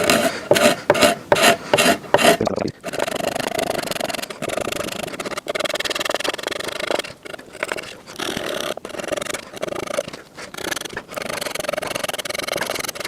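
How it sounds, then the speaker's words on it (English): Sandpaper rubbing the soft cambium layer off the back of a wooden longbow stave, a steady rasping scrape in quick strokes, faster at first and then longer continuous passes, close and fairly loud with no talking. "You can also use sandpaper because the cambium's softer than the wood"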